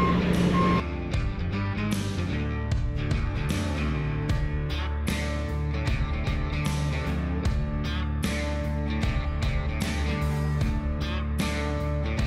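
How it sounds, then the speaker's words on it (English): Repeated telehandler reversing beeps pulse steadily over a loud, droning engine and rattling machinery in a yard, close at hand throughout. "Telehandler's behaving itself, although it likes to beep at me a lot."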